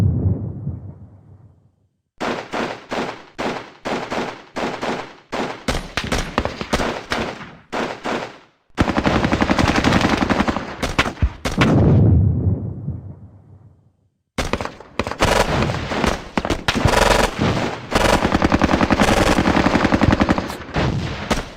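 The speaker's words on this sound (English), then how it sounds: "our medium machine gun is being shelled by anti-aircraft fire" Heavy bursts of machine gun and anti-aircraft fire from a Squad Battles Eagles Strike war game, loud, rapid and dense, arriving in long stretches broken by short silences.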